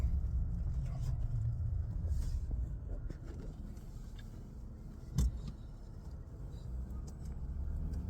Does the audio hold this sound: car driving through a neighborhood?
yes